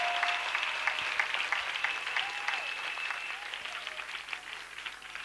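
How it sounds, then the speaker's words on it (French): A church congregation clapping together during a worship service, a continuous fairly faint wash of applause held steady throughout, with faint tonal sounds drifting over it. "Clap offering to Jesus."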